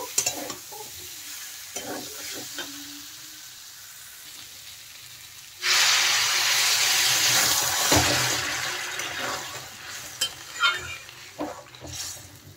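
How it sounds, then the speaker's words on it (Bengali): Cauliflower and spices are being stir-fried in a pan for a Bengali potato-and-cauliflower fish curry. A spatula scrapes and stirs in bursts, then a loud, steady sizzle suddenly swells midway and slowly fades under further stirring. "ফুলকপিগুলো দিয়ে আরেকটু নেড়ে চেড়ে কষিয়ে নেব।"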